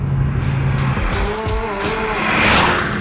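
Peugeot RCZ R turbocharged engine pulling hard under full acceleration, a deep warm exhaust note rising in pitch with gear changes, loud and close, with faint tyre noise and no talking.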